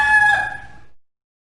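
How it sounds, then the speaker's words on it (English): A rooster crows once, close and loud, in a single cock-a-doodle-doo lasting about a second before cutting to silence. "A cock crows."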